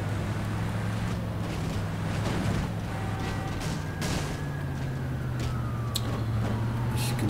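A yellow siren on a vehicle in the video game Creepy Driver wails steadily in a gliding tone, running continuously over a droning engine hum with no talk.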